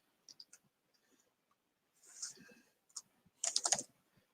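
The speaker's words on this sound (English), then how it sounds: "Yeah, I'm typing." Bursts of computer keyboard typing in a quiet room, short clusters of quick key clicks separated by pauses, with one denser flurry near the end; close and fairly soft, with no talking.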